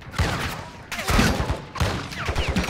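Video game gunfire crackles in three bursts of rapid shots, loud and close, each burst separated by a short gap.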